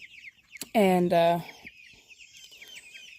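Black Australorp and golden laced Wyandotte hens cluck loudly in a short close burst of two calls, with a brief spoken word before it and soft bird chatter behind.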